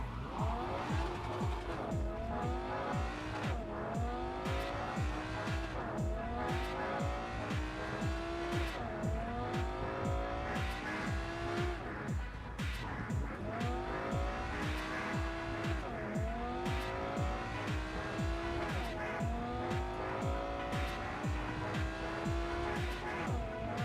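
Fast car racing in The Crew 2 video game: a continuous loud engine roar with repeated rising gear-shift sweeps and tire squeal throughout, steady and close with no talking.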